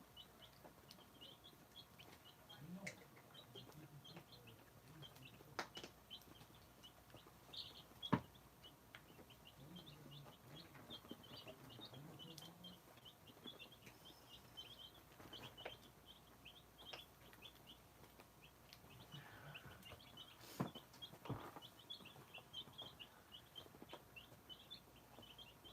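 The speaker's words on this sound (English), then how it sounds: "they just happened to have my favorite Easter egger baby chicks" A batch of twenty Easter Egger baby chicks peep and chirp softly and constantly, faint and a little distant, with scattered brighter cheeps over a quiet background.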